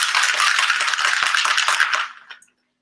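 Ice rattles hard inside a cocktail shaker as a ginger beer drink is shaken: a dense, loud, fast clatter for about two seconds, then a few fading knocks before silence.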